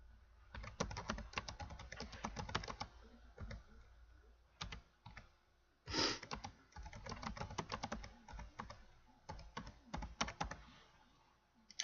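A computer keyboard clatters with rapid bursts of close key presses typing out a sentence, pausing briefly mid-way with a single louder thump, then resuming quick typing to the end.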